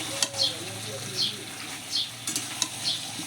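Potatoes with cashew paste being stirred and sautéed in a pan, a low sizzle under repeated scraping strokes of a spatula at a steady rhythm, close and moderately quiet.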